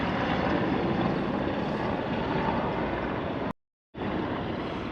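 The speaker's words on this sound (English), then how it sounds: "Ooh, a military helicopter. Look at that." Military helicopter passing overhead near the Brooklyn and Manhattan Bridges in New York, a continuous broad rotor and engine roar at steady loudness, briefly cut out near the end.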